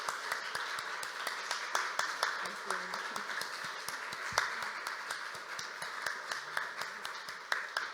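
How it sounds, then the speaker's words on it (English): Audience applause at a literary evening of author conversation and open mic: steady, dense clapping with sharp individual claps standing out, moderately loud and sustained throughout, with murmuring voices mixed in. "how about a round of applause for Niamh?"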